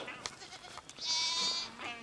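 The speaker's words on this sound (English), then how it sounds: "And here as you can see, they've got goats." Goats on a rocky farm in North Carolina give a single bleat of about a second, clear and fairly close, with scattered clicks and knocks around it.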